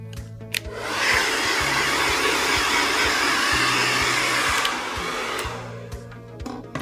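Hair dryer on its cold setting blowing over hair rollers, a steady loud whooshing roar that runs for several seconds before dropping slightly near the end, with clicks and handling noise around it.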